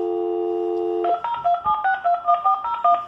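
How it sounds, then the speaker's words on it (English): A steady telephone dial tone on a Bluetooth-linked phone setup holds for about a second, then breaks into a quick run of about a dozen distinct touch-tone dialing beeps, each short and clear, with no talk. "Let's dial the same number."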